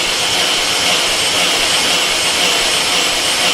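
Opel Corsa VXR engine cranking over on the starter during a compression test on a misfiring cylinder, a steady loud whirring drone that holds evenly throughout without pause.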